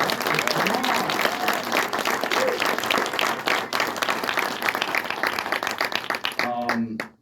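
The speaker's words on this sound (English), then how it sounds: "Gentlemen, one more round of applause." Sustained audience applause for a film's cast at a panel for Devotion, dense clapping filling the room at steady volume before fading out near the end, with a voice briefly emerging.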